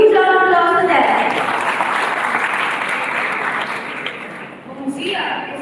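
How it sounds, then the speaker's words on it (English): An audience at a school G20 youth model event applauds the delegates, a loud, sustained burst of clapping that swells and then fades, with a voice speaking before and after it. "Please have a huge round of applause for them."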